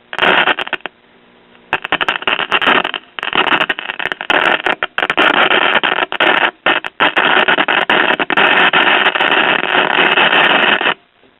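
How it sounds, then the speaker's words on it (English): Crackling static pours from a circa 1947 Detrola tube radio under repair, loud bursts of hiss and crackle that cut in and out in uneven stretches, with no voice heard. "I'm hearing a little bit of static"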